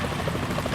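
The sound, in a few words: helicopter flying overhead in the video game Metal Gear Solid 2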